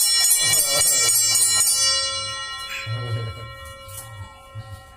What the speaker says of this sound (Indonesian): Dan ini Bel Andong.